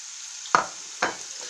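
Two short sizzling bursts as flour- and egg-dipped pieces drop into hot oil in a frying pan, with quiet crackling in between; no voices.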